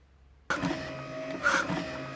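An old junkyard windshield wiper motor drives a homemade emergency ventilator, starting abruptly into a steady mechanical whir with a rhythmic rise in strain partway through, close and alone.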